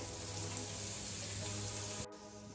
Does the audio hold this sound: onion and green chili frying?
yes